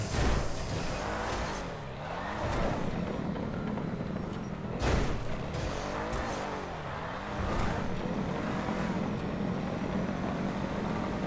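Vehicle engine in GTA 5 parkour play on a Freecrawler off-road buggy, a steady loud droning hum with rising and falling revs, sharp clunks near 2.5 and 5 seconds, continuous throughout.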